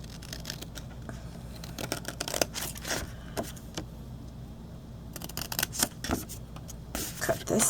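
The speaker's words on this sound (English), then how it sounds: "Cut this piece off and this piece off." Scissors cut card stock for a gift card holder with envelope: a series of crisp close snips and slices in an irregular rhythm, with paper rustling between cuts and a brief bit of speech.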